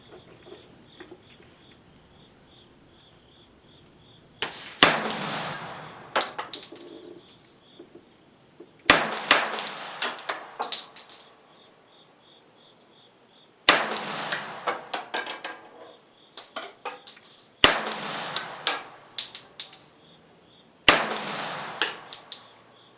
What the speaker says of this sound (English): I'm going to fire a few off the bench just to see where this thing's shooting.